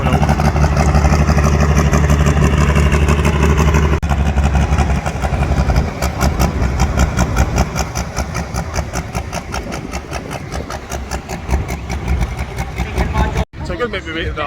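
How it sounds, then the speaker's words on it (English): A pulling tractor's engine idles with a loud, heavy rumble at a tractor pulling event in Brechin, Scotland, the steady throb rising into a faster rattling pulse as it readies to move out. "That's the next tractor coming out."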